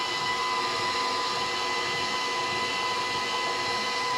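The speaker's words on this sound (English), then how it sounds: "So we're going to let this beat." An electric hand mixer whips egg whites into cake batter in a bowl, giving a steady, loud motor whir that runs unbroken throughout with no talking.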